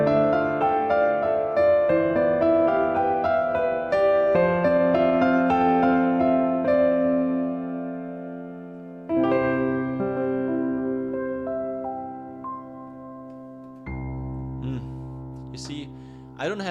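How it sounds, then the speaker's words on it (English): Piano chords held with the sustain pedal down, notes ringing and blending into one another before fading, several phrases with long decaying tails and a brief high ping near the end, close with no talking. "Now if I use the pedal, I will sound like this."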